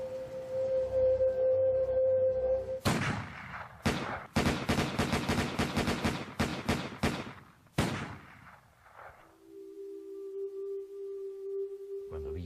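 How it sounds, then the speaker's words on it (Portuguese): Reenacted ambush with rifles firing on a car: bursts of rapid, loud gunshots in irregular volleys, then a pause and a low sustained tone. "desferiram 150 tiros no carro em que viajava"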